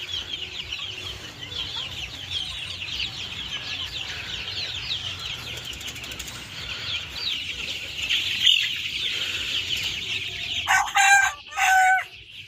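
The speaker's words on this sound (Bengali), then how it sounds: "আমাদের বড় মুরগিগুলো রয়েছে, বিরামা, পলিশ ক্যাপ, সিল্কি, এইসব ফাউমি" Brahma, Polish cap, Silkie and Fayoumi chickens on a farm cluck and crow continuously at moderate distance, with louder, closer crowing bursts near the end.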